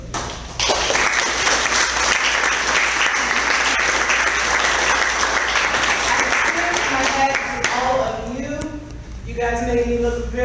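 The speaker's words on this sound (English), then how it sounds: "You should all give yourselves a round of applause" Dinner guests at a Toastmasters officer induction dinner clap for themselves in loud, sustained applause that fades as a voice speaks over the tail end.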